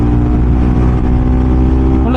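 A Bajaj Pulsar NS 200 naked motorcycle cruising at speed in fifth gear, its engine and exhaust giving a steady, loud, droning hum with rich low harmonics and wind rush, while a rider talks over it.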